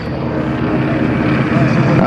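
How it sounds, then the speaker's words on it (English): An SNJ trainer airplane flies overhead at an airshow, its propeller engine making a loud, continuous drone that holds steady from start to finish. "the SNJ that you see flying up overhead with the blue tail to the left"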